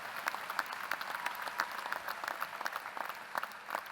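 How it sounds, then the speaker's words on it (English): An audience at a UC Irvine business school ceremony claps in a steady round of applause, with the dense patter of many hands heard alone and moderately near. "give a thundering round of applause"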